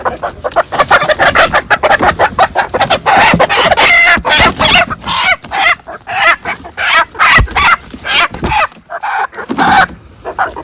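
Chickens clucking and squawking busily up close, with a rooster crowing partway through; the birds keep up a loud, continuous, overlapping chatter.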